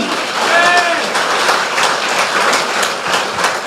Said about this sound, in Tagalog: Palakpak para sa Panginoon.